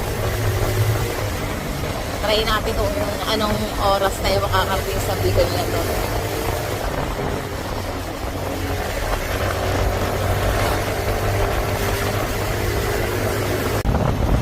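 A small Honda Click motorcycle hums steadily while riding on the road toward Bicol, its engine drone continuous and close beneath someone talking throughout.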